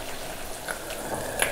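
Chopped potatoes with pepper and turmeric powder sauté quietly in a pan on low flame, a soft faint sizzle with a few small stirring clicks and no voices.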